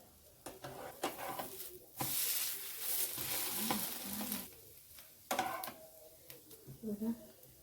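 Bread omelette shallow frying in oil in a pan, sizzling in bursts with scraping and stirring sounds, loud surges interrupted by quieter pauses, heard up close.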